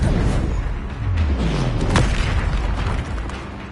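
A Confringo blasting spell explodes in Hogwarts Legacy, a video game, with a loud, rumbling boom and a sharp burst near the middle. Dense low roar and crackle fill the short clip.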